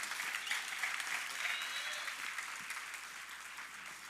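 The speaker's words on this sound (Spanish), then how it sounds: "Le dan un aplauso al Señor por eso." Church congregation applauds during a sermon, with steady, fairly faint clapping that fills the whole clip and a faint voice underneath.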